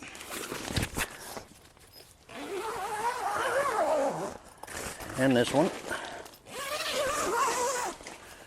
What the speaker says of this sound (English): So if I was to zip this one up